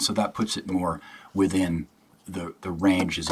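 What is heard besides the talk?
No distinct noise like a dog, phone or traffic.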